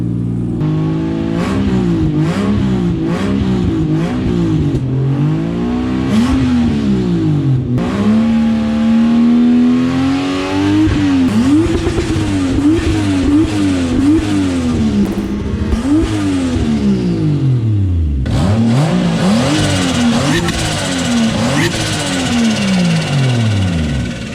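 Close, loud Toyota 2JZ engine in a Nissan S13 revving repeatedly through a budget exhaust, pitch climbing and falling in surges and drops, with a sustained high rev near the end.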